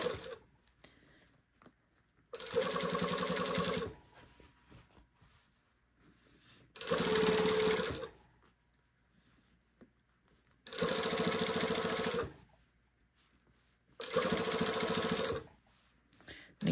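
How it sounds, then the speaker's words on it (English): A sewing machine stitching knit tape along a shirt seam, running in four short steady bursts of a couple of seconds each with quiet pauses between, close and clear. "I'm sewing just to the right of that seam line on the knit tape and the seam allowance."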